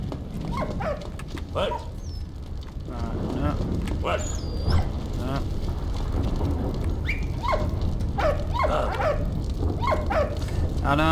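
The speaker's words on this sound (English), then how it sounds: "No, doggy," A dog barks in short repeated bursts in the World War I video game Valiant Hearts: The Great War, sounding over game background noise while a player talks throughout.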